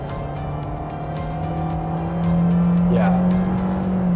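A Toyota Vios or Honda City sedan accelerates with a steady droning engine note that grows louder and rises slightly in pitch, heard from inside the cabin while a person speaks briefly over it.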